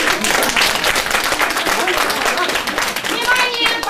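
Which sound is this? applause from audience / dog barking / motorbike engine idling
applause from audience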